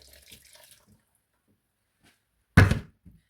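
Water is poured into blended pepper, onions, ginger and garlic while making fish and yam pepper soup, a single short, splashy gush after near silence, followed by a faint clink.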